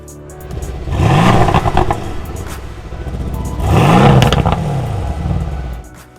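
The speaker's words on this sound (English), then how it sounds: "This particular model was fitted with the optional AMG performance exhaust system" A 2018 Mercedes-AMG C63 S sedan with its 503 horsepower 4-litre bi-turbo engine and optional AMG performance exhaust revs twice, each loud, close blip rising and falling, with a rumbling idle between them and no talk.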